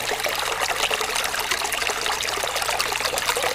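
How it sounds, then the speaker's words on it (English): Water trickling and sloshing steadily as a gold pan is worked slowly in a creek while prospecting for gold in Gippsland, Australia; a continuous, close, even liquid dribble with no voices. "Gonna slowly pan this one."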